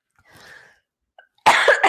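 A faint breathy rasp, a brief pause, then one loud, harsh cough close to the listener.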